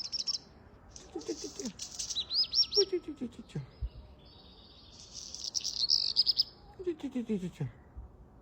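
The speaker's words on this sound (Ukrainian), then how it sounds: "пташечки співають" Small birds chirp outdoors on a morning street: short bright tweets and trills come in scattered bursts, with lower chattering calls between them and a faint background hum.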